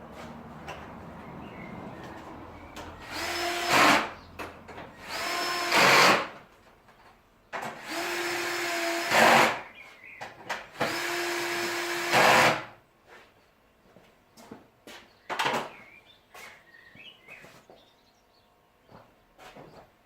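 A power tool tightens screws on a Mazda RX8 during an engine refit. It runs in several whirring bursts of a few seconds each, then gives short quick zips, close up against a quiet workshop background, with no talking.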